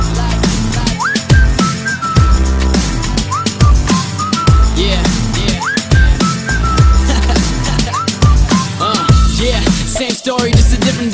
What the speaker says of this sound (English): But I didn't know what to say, so I just whistled at her.